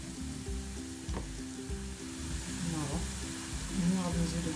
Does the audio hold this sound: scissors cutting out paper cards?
no